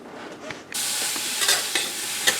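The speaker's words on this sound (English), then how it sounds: "we're just letting the apples get a little heated up here and the butter's melting" Apples and butter heating in a pan, a sudden steady sizzle that starts partway in and keeps on, with a few light stirring clicks and no talk over it.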